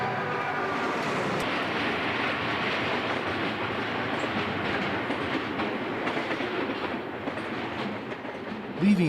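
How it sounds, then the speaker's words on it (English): A Union Pacific double-stack freight train climbs westbound out of Nipton, a steady loud rumble of rolling wagons with faint clickety-clack, sustained throughout from fairly close by. "Leaving Nipton and climbing westbound is this stack train"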